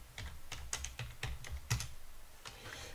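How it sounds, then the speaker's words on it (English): Keys clatter on a computer keyboard as a root password is typed on a Linux workstation set up for remote C# debugging of a PLCnext controller, a quick run of close, crisp taps in an uneven rhythm with no voices. "Type in the root password."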